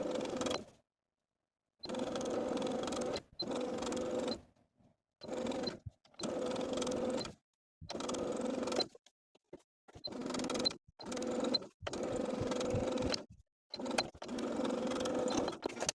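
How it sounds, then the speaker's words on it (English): Sewing machine stitching bias tape around the armhole of a summer-top bodice, running in repeated bursts of steady whirring with short pauses between them, close and moderately loud. "I'm going to be stitching from the top of one bodice piece around the armhole to the top of the opposite bodice"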